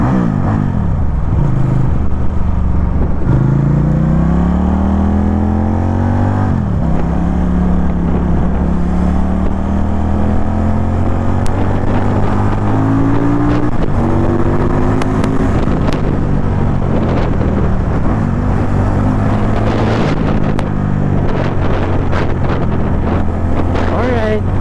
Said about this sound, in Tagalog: Yung ibomba, ang smooth ng engine nya, wala masyadong vibration